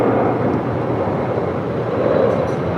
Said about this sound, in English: It's the A320neo making our way over to 25 right